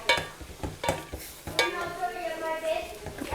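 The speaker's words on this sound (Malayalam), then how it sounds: "അപ്പം വെളിച്ചെണ്ണ ഒഴിച്ചു കൊടുത്ത് കറിവേപ്പില ഇടുക." Curry leaves crackle and sizzle in hot coconut oil for an Onam inji curry, with a sharp burst of frying partway through, then a steady hiss. Spoon clinks and stirring sounds come through near the start.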